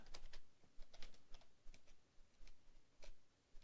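Rapid, light clicking of a computer keyboard as a short title is typed, a quiet irregular patter of keystrokes close by with no voices.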